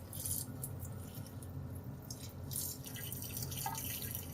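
Cooling water drains from a reflux condenser outlet into a laboratory sink, a faint, quiet trickle with scattered drips and a soft continuous wash in the background.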